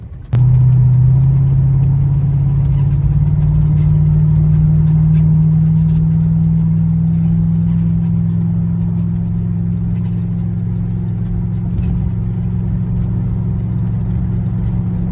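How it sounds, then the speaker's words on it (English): A 1957 Ford F250 truck's V8 with aftermarket exhaust idles and revs with a deep, steady rumbling note, loud and close, holding a throaty drone throughout with no talking. "If you can hear the V8 over the squeaking tyres in the back"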